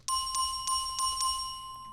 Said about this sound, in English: I'm going to use this bell.